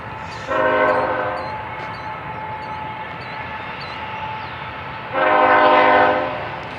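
A train horn sounds loud and close in two long blasts, one near the start and one near the end, over a steady rumble of a passing train in between.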